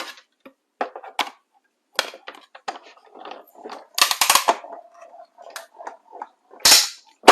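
Sharp clicking and snapping bursts from a die cutting machine cutting a small paper piece come in uneven clusters, close and fairly loud, with a few louder cracks.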